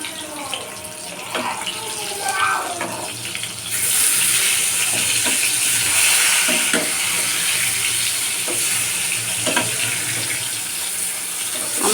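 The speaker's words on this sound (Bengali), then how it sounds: "তো এদিকে বেগুনটা ভেজে নিতে হবে" Eggplant frying in a pan in a home kitchen, a steady hiss that swells into a louder, sustained sizzle partway through, with scattered clinks of utensils and no talking.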